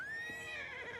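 Horse neighing in The Elder Scrolls IV: Oblivion Remastered, a single loud, close whinny that wavers and falls away over about a second.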